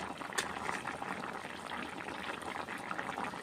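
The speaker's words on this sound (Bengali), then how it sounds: "দেখুন বন্ধুরা কি সুন্দর ফুটে গেছে" Potatoes and broccoli boil in a pot of water, a steady close bubbling hiss with soft pops throughout, even in level and without talk.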